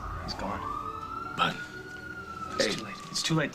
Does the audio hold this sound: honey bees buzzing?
no